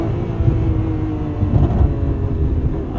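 A naturally aspirated Lamborghini Aventador Ultimae V12 roars under hard acceleration, heard from inside the cabin. Its dense, droning growl holds steady, loud and close, with low mechanical rumble throughout and no voices.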